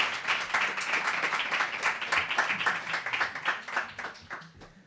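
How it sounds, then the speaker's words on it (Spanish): Podcast audience applauding in a studio, a dense sustained burst of many hands clapping at steady loudness, with a faint voice underneath and the clapping thinning slightly toward the end. "Los aplausos han interrumpido"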